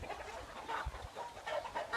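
Fighting cock roosters cluck outdoors on a farm raising game fowl near a palm plantation, repeated short clucks at moderate distance over steady outdoor background.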